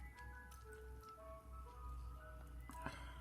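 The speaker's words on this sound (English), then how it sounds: "That's the ice cream truck outside." Ice cream truck outside a home, its tinkling musical jingle drifting faintly from a distance over low background hum, with no one speaking.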